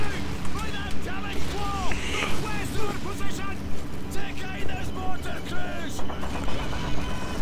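A tank engine in the Call of Duty video game rumbles low and continuous, with a steady rhythmic pulsing roughly twice per second under wind-like noise.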